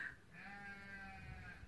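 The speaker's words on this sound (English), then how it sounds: "And yes, you might hear some sheep." A sheep on a shepherd's farm lets out one long, wavering bleat, fairly faint, with no other sound over it.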